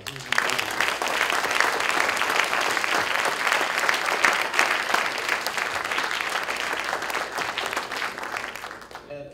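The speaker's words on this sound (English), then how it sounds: "Please give the researchers a round of applause." An audience applauds researchers at a SETI talk event, dense sustained clapping lasting about nine seconds before tapering off at the end.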